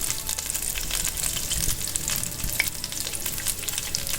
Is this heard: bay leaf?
yes